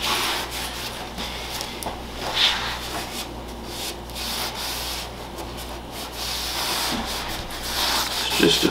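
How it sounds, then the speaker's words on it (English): A cloth rubs steadily over a Marshall JCM900 guitar amp with rubbing alcohol, giving a soft, continuous close-up swishing with slight swells and no talking. "So just a quick wipe off, a little bit of rubbing alcohol."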